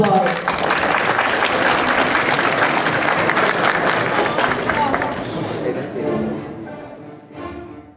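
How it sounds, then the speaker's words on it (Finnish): An audience applauds a rap performer at a school anti-smoking rap event, a loud, dense burst of clapping with crowd voices that holds steady and then tapers off toward the end as a voice begins. "Annetaan aplodit."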